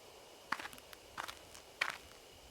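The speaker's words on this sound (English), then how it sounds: "There are footsteps close by, from the bushes." Three footsteps rustle through bushes in the video game Death Mark, each a short crunchy scuff with a gap between, close and fairly quiet, with no talk.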